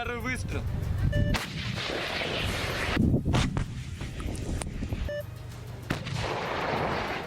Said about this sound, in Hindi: टैंक चलाने वाले सैनिक ने गोला लोड कर जैसे ही उसे फायर किया, लोहे का भारी भरकम टैंक तक थर्रा उठा